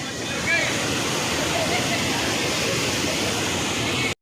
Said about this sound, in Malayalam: വാളറയിലെ താഴേക്കുള്ള ഏറ്റവും വലിയൊരു കുത്താണ് വെള്ളച്ചാട്ടം